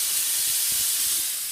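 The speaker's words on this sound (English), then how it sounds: "Our steam trigger is here to release steam." Steam cleaner hose trigger releasing a jet of steam onto a fabric seat, a steady close hiss holding at an even level for the whole stretch.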